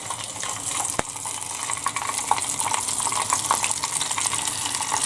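Seafood pieces deep frying in hot pure vegetable oil give a steady, dense, close sizzle with a faint bubbling crackle that runs unbroken throughout, with no voices.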